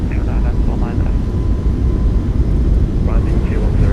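Thrust reversers on a Boeing 737 MAX 8 landing in a flight simulator game, heard as a steady, loud broadband jet roar that holds for several seconds, with faint talk over it.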